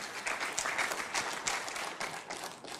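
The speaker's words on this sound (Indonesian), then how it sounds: "Oke, cukup banyak tepuk tangan" Seminar audience clapping, a dense, close burst of many hands with slight surges in intensity, sustained for the whole stretch.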